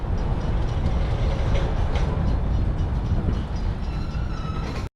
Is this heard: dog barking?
no